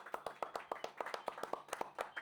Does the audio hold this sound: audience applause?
yes